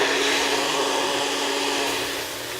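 A food processor blending red chilies with their soaking liquid runs in a loud, steady whirring burst that eases slightly toward the end, with no talking.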